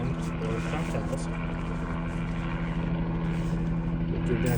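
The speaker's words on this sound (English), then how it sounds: "Pardon the helicopter noise." A helicopter drones overhead in a steady, fairly loud whir behind someone talking during outdoor work on a Subaru rear axle.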